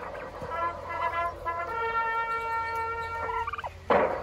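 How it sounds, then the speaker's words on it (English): Turkeys gobbling in a rapid, wavering burst, followed by a long sustained call, with a sharp knock near the end. "look at these turkeys"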